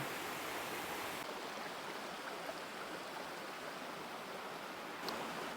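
Steady rushing of a small waterfall tumbling into a natural bubbling pool outdoors, a continuous broad wash of water noise with no voices.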